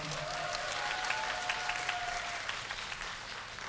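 Audience applause at the TWS debut showcase 'Sparkling Blue', a K-pop event, a steady moderate wash of clapping from the crowd with a faint sustained tone over it early on.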